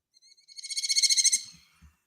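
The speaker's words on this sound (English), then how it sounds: "That's a small and fierce falcon." A small, fierce falcon's call plays from a bird-identification phone app: a rapid series of sharp, repeated high-pitched notes building to a loud peak and then cutting off, followed by a few faint low thumps.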